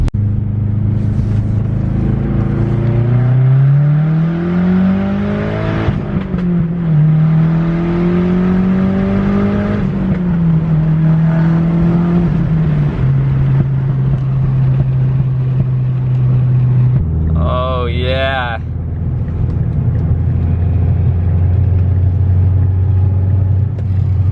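A Mazdaspeed 6 engine climbs through full-throttle pulls, its loud rising drone sweeping up through the revs, dropping at gear shifts and climbing again, with a brief high whistle near the end.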